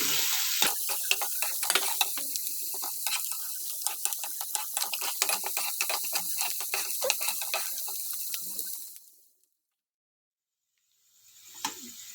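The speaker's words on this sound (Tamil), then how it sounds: "வெங்காயத்தை நல்லா வதக்கிக்குவோம்" Onions sautéing with cumin and dried red chillies in a pan, a steady loud sizzle with frequent scraping stir clicks for about nine seconds before dropping to silence, then a brief return of sizzle.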